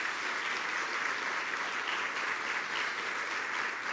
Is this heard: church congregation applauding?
yes